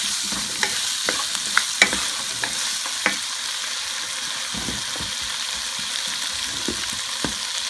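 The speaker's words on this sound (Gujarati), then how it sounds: "તો આપણે જરાક વાર એને સોંતરશું." Potatoes sautéing in a pan for vegetable pilaf, a steady close sizzle of frying with intermittent light scrapes and taps of a spoon stirring, no voices.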